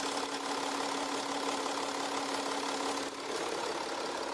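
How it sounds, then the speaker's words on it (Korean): An Audi A7 3.0 TDI quattro diesel engine idles nearby with a steady, even drone and faint hum, continuous and unchanging throughout with no voices. "경유 엔진이지만 경유 엔진 치고 굉장히 조용한 엔진 소음 만나보실 수가 있고요."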